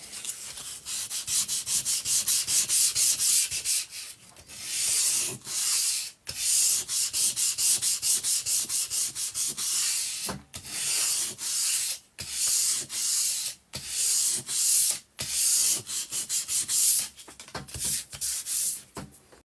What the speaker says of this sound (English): it just needs a light sanding first. If I can lay my hands on some sandpaper